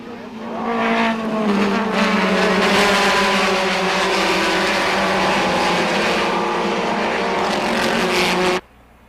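Race cars roar together at a 1989 SCCA National Championship race, a loud, sustained engine drone with a harmonic whine holding for about eight seconds before cutting off abruptly.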